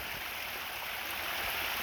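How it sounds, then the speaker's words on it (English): Rainwater runs and drips steadily after a storm, making a continuous, even hiss of flowing water with no voices. "you can see there's some water dripping right there"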